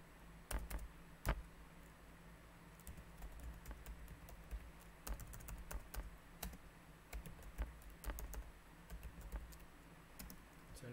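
Fingers type on a computer keyboard while filling in a Google Form attendance sheet, giving quiet irregular key clicks in short runs and isolated sharp taps spread over the whole stretch.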